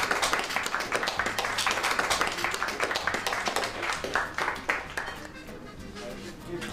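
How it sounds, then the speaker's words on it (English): An audience claps and applauds for a chef, a dense, steady patter of many hands that runs for several seconds, swells slightly and then thins toward the end. "Let's have a nice round of applause for the best chef on either side of the channel."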